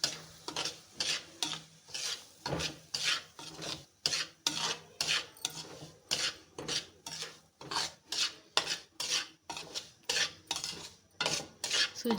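A spoon scrapes and stirs semolina roasting in desi ghee in a pan, producing steady rhythmic rasping strokes, roughly two per second, close and clear with no talking.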